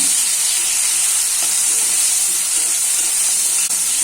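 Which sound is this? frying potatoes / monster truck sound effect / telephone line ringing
frying potatoes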